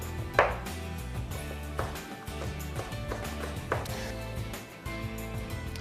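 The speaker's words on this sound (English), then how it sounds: "We're just going to julienne them" Knife chopping vegetables into julienne strips on a cutting board, a steady series of close, sharp taps with a few louder strikes, no talk over it.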